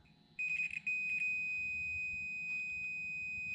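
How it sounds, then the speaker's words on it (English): A steady, high electronic beep from a multimeter on continuity setting, tested across two plates of a Foxbody Mustang map light, switches on and holds continuously, clear and close, with a few faint clicks near the start. "Got this on a continuity setting, and I should get a beep going from this plate to this plate."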